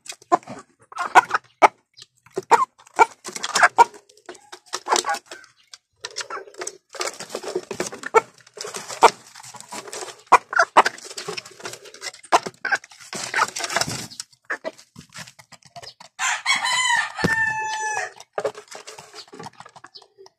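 Chickens and roosters being fed, with busy scratching, pecking and clucking close by and a clear rooster crow rising near the end.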